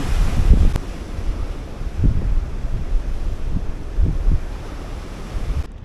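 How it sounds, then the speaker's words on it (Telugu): Waves break and wind buffets the microphone at Marina Beach in Chennai, a steady low rumble with surges every second or two and no speech. "ఇది బీచ్ అన్నమాట మరీనా బీచ్"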